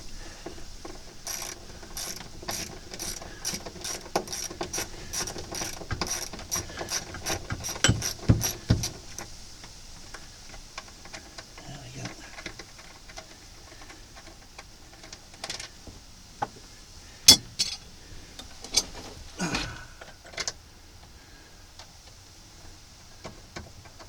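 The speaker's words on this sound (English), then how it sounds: "In with the M6 countersunk screw." An M6 countersunk screw is driven into the frame of a VW T2 rock and roll bed with a run of quick, evenly spaced ratcheting clicks, then a pause and a few scattered louder clicks and knocks, close up with no talk.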